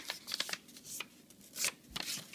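Paper being creased and folded by hand while making an origami cicada, a series of soft crisp rustles and quick crinkling snaps, close and fairly quiet, with no talking.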